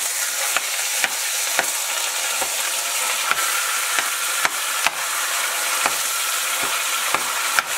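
Hot Italian sausage browns in a pan with a constant close sizzle, broken at irregular intervals by sharp scraping clicks as a utensil stirs and breaks up the meat.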